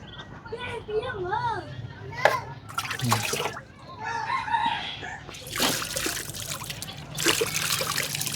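A small duckling gives a run of high, rising and falling peeping calls close by, then more scattered calls as people talk over the background.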